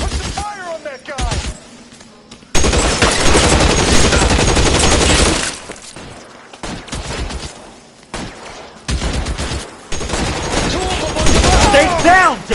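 Heavy sustained gunfire from a police shootout in L.A. Noire, loud bursts of rapid shots with brief pauses, fairly close, with voices shouting over the battle.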